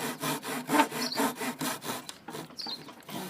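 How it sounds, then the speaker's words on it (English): A hand saw cuts into wood for a rabbet joint on a simple box, giving rhythmic rasping back-and-forth strokes that are close and clear and come at a steady pace. "when you start sawing, focus on the front"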